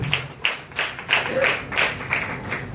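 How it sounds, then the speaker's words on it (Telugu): A church congregation clapping in rhythm during a Telugu gospel sermon, steady rounds of claps roughly every third of a second, fairly close and full. "చప్పట్లు కొట్టి దేవునామాన్ని మహిమ"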